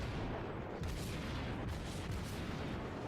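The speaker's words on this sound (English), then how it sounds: "I'm going to fire some harassing fire here at him" Cruiser gunfire from a Kuma in World of Warships rumbles in a steady, muffled barrage, faint and distant under a continuous wash of battle noise.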